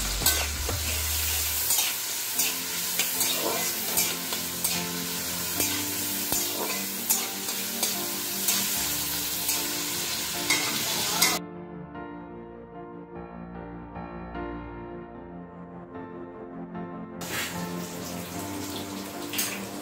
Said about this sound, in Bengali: এদিকে পটলটা ভাজা হোক